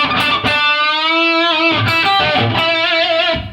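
An electric guitar plays a short phrase from a song's solo: sustained, slightly distorted notes with vibrato, a held note followed by quick picked notes and bends, loud and close with no talking.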